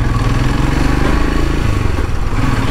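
A 180cc Royal Enfield Himalayan motorcycle engine runs steadily up close at high altitude in Nepal, a loud continuous rumble with a rattling, throbbing texture throughout.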